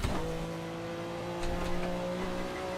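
Porsche 962 C race car on soft tyres in a racing sim, engine holding a steady high-pitched drone with slight rev changes and faint tyre noise, loud and unbroken for a few seconds.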